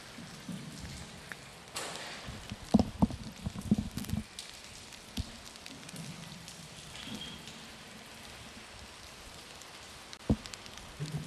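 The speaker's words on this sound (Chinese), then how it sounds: "现场的状况还是持续在下雨" Steady rain falls over an outdoor water ski competition venue during a national team selection event, a soft continuous patter with a few louder knocks and thumps early on and no voices.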